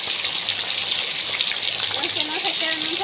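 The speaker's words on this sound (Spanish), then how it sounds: "El agua está cayendo." A heavy downpour of water pours down in a loud, continuous rushing spatter during hurricane weather, with voices briefly talking beneath it.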